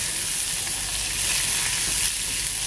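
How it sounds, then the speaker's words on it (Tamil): Strips of ridge gourd skin fry lightly in a pan for chutney, a steady close hiss of oil sizzle with no talk. "இப்போ இது லைட்டாக ஃப்ரை ஆகட்டும்."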